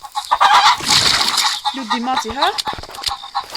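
Chickens cluck close by in short, scattered bursts while people talk over and between them.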